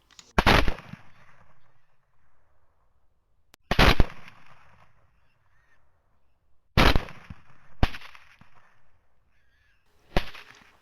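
Rifle shots at hogs during a thermal-scope night hunt, heard as five sharp, loud cracks spaced a few seconds apart. Each shot rings off into a fading echo, with near silence between shots.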